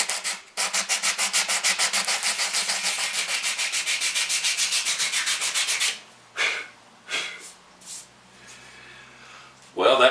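Sandpaper wrapped on a leveling block sands the sides of a mandolin body in fast, even back-and-forth strokes for about six seconds, followed by a few slower separate rubs, close and loud.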